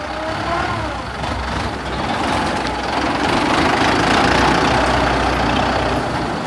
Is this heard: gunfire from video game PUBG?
no